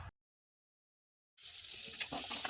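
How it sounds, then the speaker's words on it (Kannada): Onions fry in a little oil in a pan over medium heat, a steady bright sizzle with faint crackles starting abruptly after a brief silence. "ಈರುಳ್ಳಿನೂ ಒಂದು ಸ್ವಲ್ಪ ಎಣ್ಣೆ ಜೊತೆ ಹುರ್ಕೋಬೇಕು"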